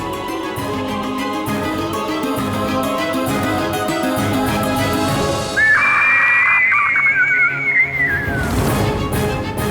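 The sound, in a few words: red-wattled lapwing screeching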